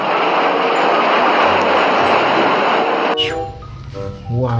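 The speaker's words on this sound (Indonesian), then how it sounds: "ada pesawat terbang Lion Air" Airplane engine roar, steady and loud for about three seconds alongside a toy Lion Air airplane, then it drops away as a voice speaks over quieter background.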